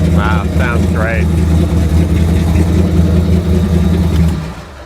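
Steady, loud mechanical drone of a supercharged dual-purpose hot rod engine runs throughout, close up and constant, with someone talking briefly over it at the start.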